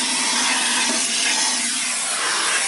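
A central vacuum with its dusting brush roars as a steady, loud broadband hiss and whoosh, continuous throughout with slight changes in airflow as the brush moves.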